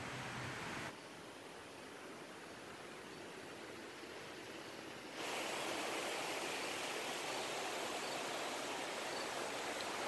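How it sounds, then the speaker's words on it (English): A massive indoor waterfall in a Las Vegas casino hisses as a steady, faint wash of falling water, growing noticeably louder partway through and staying constant after that. "There's that massive indoor waterfall again."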